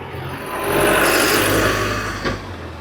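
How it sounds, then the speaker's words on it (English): A bus drives past on a street, its engine rumble and road noise swelling to a peak mid-clip and then fading as it moves away, with no talking. "Oh, there's a bus coming. We're going to get a bit of a sound here with the bus."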